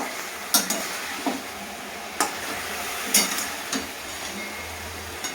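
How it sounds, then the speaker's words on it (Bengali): Chicken pieces fry at medium heat in a pan, a steady soft sizzle broken by a handful of sharp scraping clicks as a spoon stirs and taps against the metal. "এইবার চিকেনটা একটু ভাজা ভাজা হয়ে গেল"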